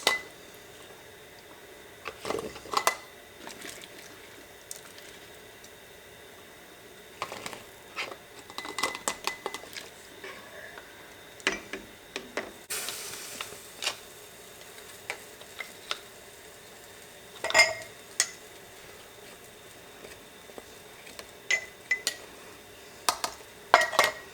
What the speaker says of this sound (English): I'm going to scoop this right into my jars